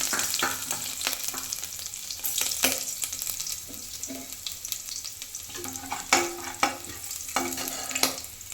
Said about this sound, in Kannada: ಇವಾಗ ಎಣ್ಣೆ ಕಾದಿದೆ. ನಾವು ಜಜ್ಜಿಟ್ಕೊಂಡಿರೋ ಅಂಥ ಬೆಳ್ಳುಳ್ಳಿನ ಹಾಕ್ತಾಯಿದ್ದೀನಿ.